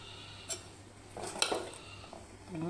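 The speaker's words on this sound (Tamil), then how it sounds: "தண்ணி ஊற்றி மிக்ஸ் பண்ணணும்." Ragi dosa batter is stirred with added water in a kitchen vessel, giving quiet, scattered scraping and light clinks of a utensil against the pot, with no one speaking.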